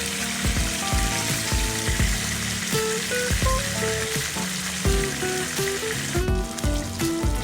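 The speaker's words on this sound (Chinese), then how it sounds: "我们将鱼在反面稍微2边再煎一下。" Fish frying in a pan for a pineapple sweet-and-sour fish dish, with a continuous close sizzle and crackle and scattered sharp pops and utensil clinks throughout, no talking.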